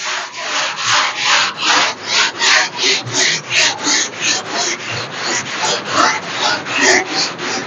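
A curved sanding block rubs back and forth over a primed car body panel in steady, rhythmic strokes, about two or three a second, loud and close with no talk.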